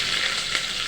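Thinly sliced onions dropped into hot oil with cinnamon, cardamom, star anise and bay leaves, giving a loud, even hiss of frying with no talk.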